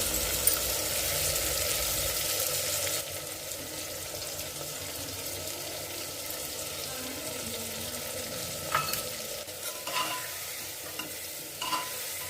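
A steady frying hiss with a spoon scraping and stirring masala for suran (elephant foot yam) curry in a pan, the sizzle louder at first, then quieter with a few sharper clinks.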